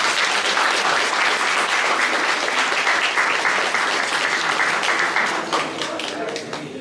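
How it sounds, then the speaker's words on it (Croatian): Sustained applause from a crowd welcoming the klapa vocal group Anima Arba at a novel presentation, dense even clapping that stays loud before thinning slightly at the end, with voices mixed in. "aplauzom pozdravimo Klapu Anima Arba"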